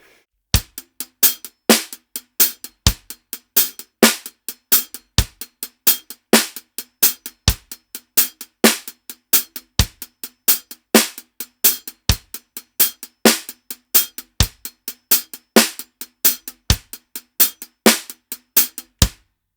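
Drum kit groove for a song verse, hi-hat accented on the fourth note of each quintuplet, crisp cymbal strokes over regular kick and snare hits, close and dry, steady and repeating with no talk.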